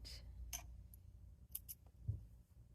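Scissors snip the loose threads on sewn fabric in a few quick, crisp cuts close by, separated by short quiet gaps, with a soft bump of handling near the end.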